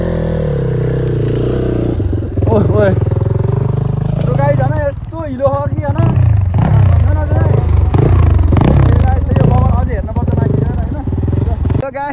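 A motorcycle ridden off-road up a muddy, landslide-damaged hill road after days of rain, its engine laboring and revving steadily throughout under near-constant talk.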